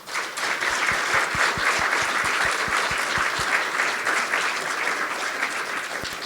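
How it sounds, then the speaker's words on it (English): Sustained audience applause for students at a 2018 district spelling bee, a dense, loud wash of clapping filling the room from start to finish, with a few distinct nearer claps standing out early on. "Let's give all of these students a round of applause."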